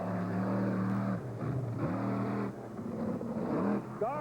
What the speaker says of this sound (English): What a motor sounding real crisp for him.